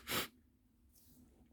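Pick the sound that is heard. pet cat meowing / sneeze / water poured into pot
sneeze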